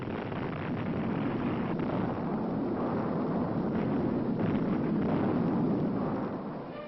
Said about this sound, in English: Explosions rocked the canyon almost daily for 2 years before actual placing of concrete in the